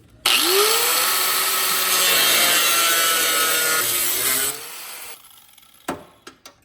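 A saw blade cuts through thin, rusty sheet metal on a Mazda Miata during an off-road lift build: one loud, steady rasping cut of about five seconds, then a few sharp clanks as it stops.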